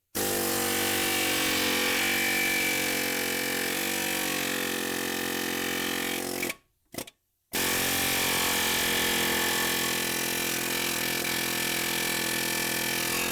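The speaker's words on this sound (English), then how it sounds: "I'm gonna go with the air hammer because it's a lot faster." A pneumatic air hammer freeing a ball joint from a steering knuckle hammers in a loud, continuous rapid buzz, stops briefly with a short burst, then resumes for a long steady run.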